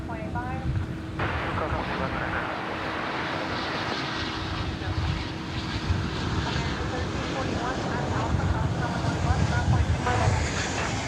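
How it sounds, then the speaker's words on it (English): An American Airlines Boeing 777 arriving from Dublin touches down at DFW Airport, a distant broad roar of jet engines and wind rising over the stretch while voices talk in the background. "That American 777 just touching down from Dublin, Ireland"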